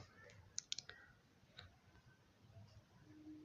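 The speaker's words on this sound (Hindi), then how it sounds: "इस पे क्लिक करेंगे" A few crisp computer mouse clicks while filling out an online railway job application form, a quick cluster of faint, close ticks followed by quiet room hum.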